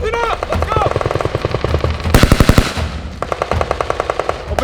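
Bursts of automatic machine gun fire during military training exercises, rapid loud rhythmic volleys with a dense, very loud burst midway, and shouted voices in between.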